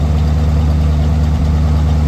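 A close, loud exhaust rumble from a 1950 Ford F-1 pickup truck idling, deep and steady with a slight throb.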